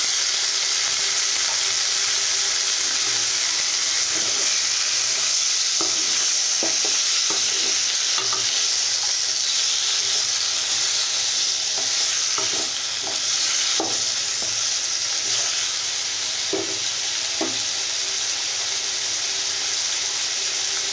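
Tomato pieces fry in a little oil in a kadai for a cumin and tomato chutney, sizzling steadily up close while a utensil stirs and scrapes at irregular intervals, with no speech.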